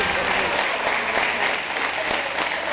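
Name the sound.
audience applause for a contestant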